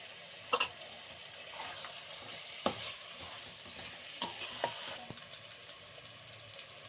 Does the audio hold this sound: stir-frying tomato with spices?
yes